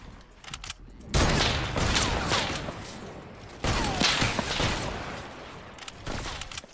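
Video game gunfire in a team battle, bursts of rapid shots starting after a brief quiet, continuing in heavy volleys with a second loud burst midway, no talk over it.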